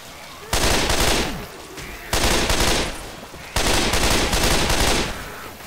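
Three loud bursts of rapid gunfire from the Left 4 Dead 2 video game, each lasting about a second and a half, separated by short lulls. The shots are close and dense, with faint voices underneath.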